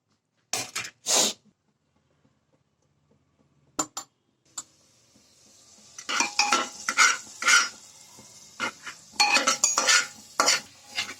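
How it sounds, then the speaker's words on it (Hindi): A few clinks of a utensil, then a sizzling hiss rises as onions hit hot ghee, with steady frying crackle and stirring scrapes close by. "जैसे घी उबलना चालू हो जाएगा, हम अपनी प्याज इसमें डाल देंगे।"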